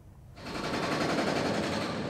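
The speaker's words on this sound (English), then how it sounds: "the rattling noise of construction work" Rattling construction work on a building site among high-rise developments, a loud continuous clattering roar that starts abruptly after a moment of quiet and holds steady throughout.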